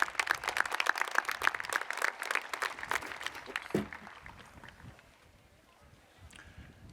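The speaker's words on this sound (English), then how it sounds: "Let's give them a big round of applause, please, again." A crowd applauds at a Dearborn High School commencement ceremony: dense clapping for about four seconds that then thins out and fades to scattered claps and quiet room sound.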